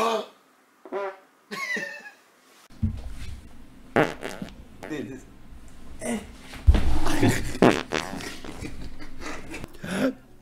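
Farts mixed among coughs, throat clearing and casual Dutch chatter in a compilation of bodily noises, several short bursts at irregular moments, with voices talking and reacting close by between them.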